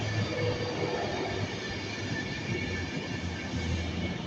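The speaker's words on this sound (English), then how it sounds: "This was the train I was originally planning to catch to get to Nuneaton" Class 391 electric train pulling into Milton Keynes Central station, a steady close rumble of rail and wheel noise with faint high squeal, continuous and loud throughout with no voices.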